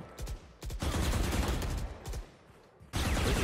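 Gunfire in the Valorant video game, with dense, loud bursts of shots in two long stretches separated by a short quieter gap, close and continuous.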